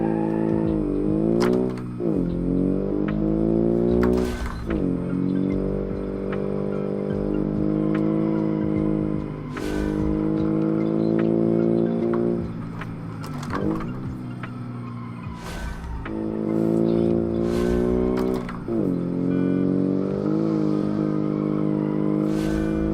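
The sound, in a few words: twin turbo Subaru car driving fast in video game BeamNG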